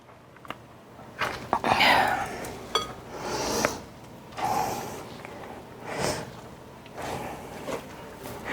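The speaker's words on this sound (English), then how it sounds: "I'm going to press some more of the water out of the broccoli" Wet squishing and squeezing sounds as water is pressed out of cooked broccoli, with soft handling noises and a few light clinks, close up, in uneven bursts.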